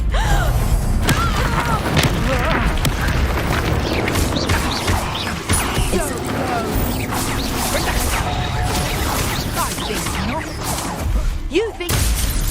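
The Incendio fire spell erupts in the wizarding game Hogwarts Legacy amid a loud, chaotic fight, with booming impacts, crashes and whooshes layered over constant combat noise and shouted voices.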